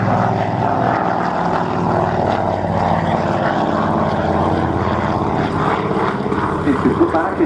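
Avro Anson twin-engine propeller aircraft flying at Scampton, a steady loud droning engine roar throughout with a rough throbbing texture, continuous and close.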